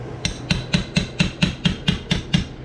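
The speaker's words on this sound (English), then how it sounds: "I'm using the side of the hammer, it's easier" Ten or so sharp, evenly spaced metal clanks ring out as the side of a hammer strikes a Jaguar MKII steering column during teardown, each blow close and distinct in a steady rhythm.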